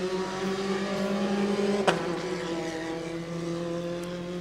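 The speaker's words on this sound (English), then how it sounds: "the two red cars fighting as they go through the chicane" Formula 4 race cars scream through a chicane in a South East Asia championship race, a loud sustained engine whine with a sharp downshift crack midway before the pitch settles and carries on.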